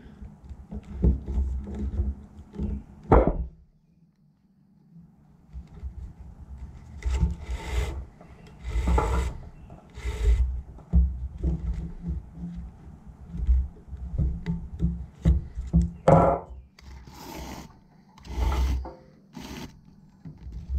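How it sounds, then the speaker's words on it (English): Lashing material being pulled and rubbed around the rim of a repurposed paper basket, a run of dry scraping and rustling strokes, close and fairly loud, with no talking. "You're just lashing this on the rim onto the top of the basket."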